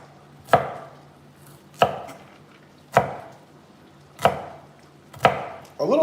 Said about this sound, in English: A little slice on my shallots.